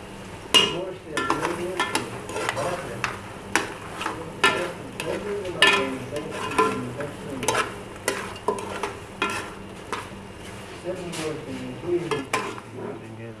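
Dry coriander and red spices are stirred in a pan of mutton salan, with repeated scraping strokes of a spoon against metal in an uneven rhythm over a soft, constant sizzle, close up and without talk.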